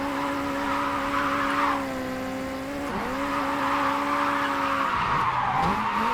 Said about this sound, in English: we're recovering from like a 60-degree drift